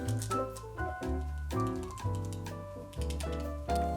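A Womier K87 keyboard fitted with lubed Gateron Yellow switches is typed on in a steady stream of soft, close keystrokes. A few deeper thocks, likely the spacebar or larger keys, land every second or so.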